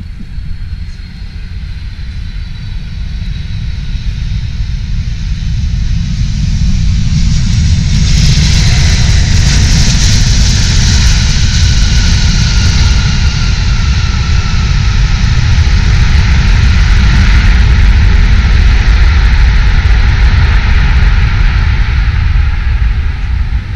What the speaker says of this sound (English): Perfect landing, coming in perfect.